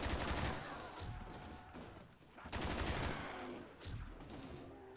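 RPK machine gun firing in Black Ops custom zombies on the Kowloon map, heard as sustained bursts of rapid gunfire with short pauses between, fairly quiet in the mix.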